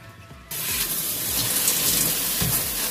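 Water gushes steadily from a tap after a brief quiet start, a continuous bright rushing splash close by with no talking.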